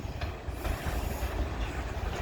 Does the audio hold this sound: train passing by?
yes